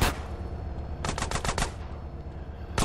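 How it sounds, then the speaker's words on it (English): Gunfire in GTA San Andreas: a loud opening shot, then a rapid burst of about five automatic rounds, and another shot at the end, all over steady game background noise. "Who's shooting?"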